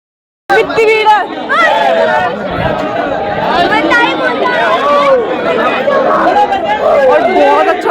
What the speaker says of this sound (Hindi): कितनी भीड़ है।